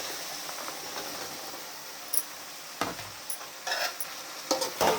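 Chopped ridge gourd stirred into a frying tomato and onion curry, soft sizzling with scraping spoon strokes against the pan in irregular bursts, close and fairly quiet, no talking.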